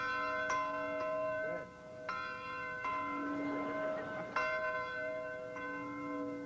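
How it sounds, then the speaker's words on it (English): A training camp bell rings every morning at 4:30 above the camp's two bunkhouses, giving repeated clanging strikes with long ringing overtones. The sound carries from a moderate distance over steady background hiss. "That bell rings every morning at 4:30"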